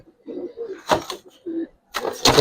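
Giribaz silver pigeons and other pigeons give a few soft, low coos up close, broken by sharp bursts of wing flapping or rustling.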